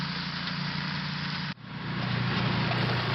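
A Logic flail mower runs with a loud, steady engine drone and rumble; the sound drops briefly at one point, then builds back to full strength.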